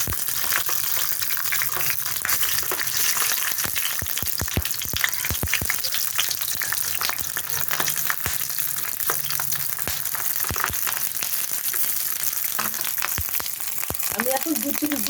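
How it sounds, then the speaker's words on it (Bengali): Bhetki fish paturi parcels fry in hot mustard oil in a kadai, giving a loud, continuous close-up sizzle with scattered sharp crackles and spatters throughout. "কড়াইতে তেলটা গরম হয়ে গেছে, আওয়াজ হবে কিন্তু"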